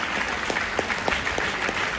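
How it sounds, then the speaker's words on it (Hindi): Loud applause from an audience at a Ranchi recognition night, with dense, steady clapping across the whole two seconds and a few sharper claps rising above the crowd. "एक बार जोरदार ताली बजाइए"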